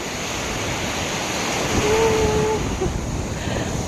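Sea breeze and waves at Na Jomtien beach in Thailand, a steady broadband wash of surf and wind rumble that swells slightly midway, with a faint tonal whistle briefly above it.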